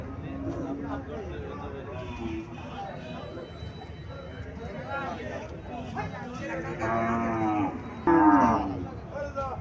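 Long, loud moos from an Indian Haryana cow at a cattle market in Comilla swell toward the end, the final call strongest, with voices chattering nearby underneath.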